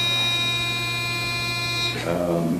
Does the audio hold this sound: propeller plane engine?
no